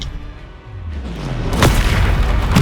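The Confringo blasting spell goes off in Hogwarts Legacy as a deep booming explosion that swells and lingers with rumbling debris, loud and close.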